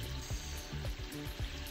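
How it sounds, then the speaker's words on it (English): Constant crackling sizzle of chicken drumsticks frying in hot oil in a pot, with faint bubbling pops recurring in a loose rhythm. "It's frying its way."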